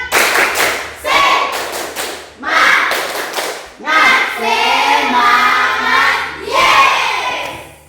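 A school class does a rhythmic spirit clap together, with bursts of claps in a steady pattern and group voices shouting along, loud and close in a classroom before a group performs.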